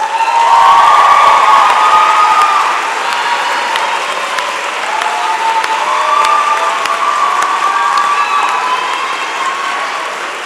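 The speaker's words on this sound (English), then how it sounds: "Graduates, a round of applause." Graduates at a spring convocation applaud and cheer in a large hall, a loud, sustained roar of clapping with whoops and shouts rising over it that keeps going for the full stretch.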